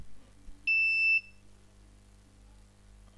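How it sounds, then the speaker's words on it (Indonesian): An Arduino multifunction shield buzzer gives one clear, loud, high-pitched beep lasting about half a second over a faint low hum. "Jadi ini bunyi beep"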